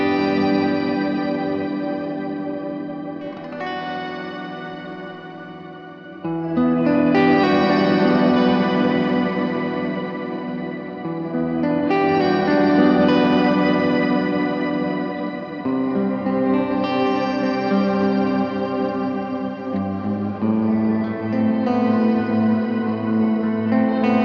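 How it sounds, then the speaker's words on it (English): An electric guitar played through a Walrus Audio Descent reverb pedal on its shimmer setting, with octave-down and octave-up fully blended into a huge reverb, rings as sustained, swelling organ-like chords that change every few seconds, rich and loud with no speech. "I'll let you hear the shimmer setting again, but only with the octave down up full and the octave up full, and I use a really big reverb sound."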